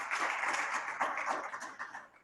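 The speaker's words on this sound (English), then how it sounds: "David, round of applause for you" Brief, soft applause ripples through a room at a Rotary club meeting, scattered hand claps fading out after a couple of seconds.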